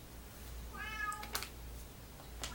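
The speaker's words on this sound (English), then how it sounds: "Constantly meowing." A house cat gives one clear meow in the background, moderately faint, followed by a few small clicks and taps.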